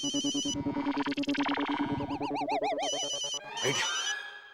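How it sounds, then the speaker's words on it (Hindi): A phone ringtone sounds for an incoming call from the boss, a loud electronic melody of chirpy repeating tones and warbles that cuts off after about four seconds, with no talk. "मेरे बॉस का फोन आ रहा है"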